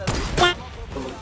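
A sniper rifle shot in the video game Fortnite: a sharp, loud burst at the start, quickly fading as speech-like sounds carry on quietly behind it.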